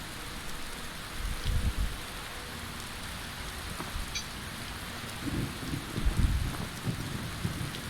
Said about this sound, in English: I want to get out of the rain.